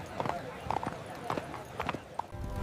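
Horse hooves clip-clopping at a steady walking rhythm, a rich merchant's horse arriving in a village, heard under narration in a Hindi story.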